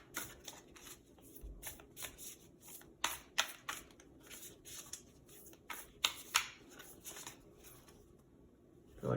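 A deck of oracle cards is riffled and shuffled repeatedly, crisp bursts of flicking and snapping paper close by, with brief pauses between shuffles.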